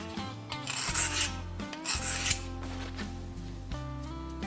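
A knife blade is drawn back and forth across a sharpener in repeated rasping strokes, close and steady, roughly two strokes per second with no talking.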